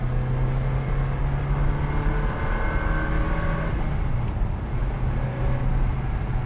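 A 2003 Ferrari 360 Modena Spider with a six-speed manual gearbox drives on the road, its engine holding a steady, loud drone with strong harmonic tones heard from inside the car, easing slightly near the end.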